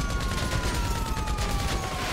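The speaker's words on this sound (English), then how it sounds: "I'm just shooting them in the head. The drivers." Rapid, continuous gunfire in GTA Online on PS4, aimed at drivers queuing in their cars at the Jetty, forms a dense, loud wash of shots with no pause and no talking.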